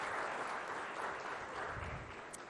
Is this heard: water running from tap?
no